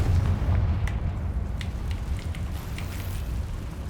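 Confringo fire spell bursting in Hogwarts Legacy gameplay, a dense low rumbling boom that rolls on throughout with scattered crackling pops on top, loud and sustained without any voices.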